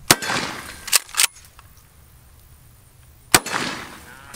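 A shotgun fires several sharp, loud blasts: a quick cluster of three near the start, a long quiet gap, then one more. Each blast leaves a short, ringing echo tail.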